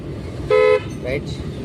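A car horn gives one short, clear toot in traffic during a driving-school lesson, close and loud, with an instructor's voice around it.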